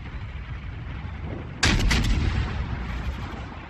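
The USS Cleveland's guns fire in World of Warships: a single heavy, booming salvo bursts out of low rumbling ambience, followed by a rolling echo that slowly fades.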